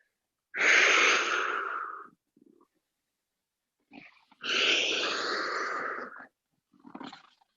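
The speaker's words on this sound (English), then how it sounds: "Trying to get a nice big exhale when I reach out there." Two big, forceful exhales during a stretching exercise, each a long breathy rush lasting over a second, close to the mic, separated by quieter short breaths.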